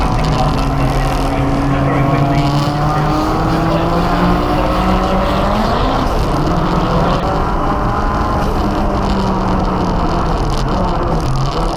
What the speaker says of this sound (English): Using the power of the Audi to pull away.